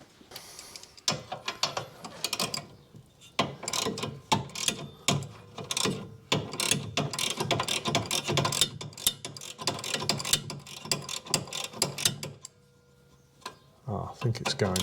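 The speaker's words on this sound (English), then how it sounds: "Might be able to fit my ratchet in there." Ratchet clicking in bursts while working on the anti-roll bar drop link of a 2014 Mazda CX-5 2.2 diesel, close up and fairly loud, with brief pauses between strokes and other tool handling.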